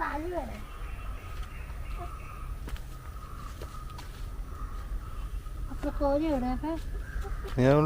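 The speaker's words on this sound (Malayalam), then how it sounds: "കോഴി" A chicken clucks in short warbling bursts nearby, while people talk and light footsteps and rustling come and go.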